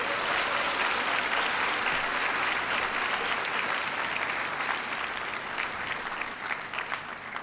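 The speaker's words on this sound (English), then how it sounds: "give Om a big round of applause for that great introduction" Sustained audience applause at a town hall event in Luang Prabang, Laos, a dense, steady clapping from a large crowd that continues throughout and tapers slightly near the end, with no talk over it.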